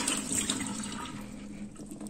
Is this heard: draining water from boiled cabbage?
yes